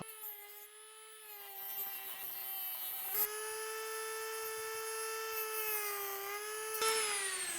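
A Dremel rotary tool whines at a high, steady pitch while cutting, running continuously with slight pitch dips and small bumps from contact with the workpiece, close and alone without talk.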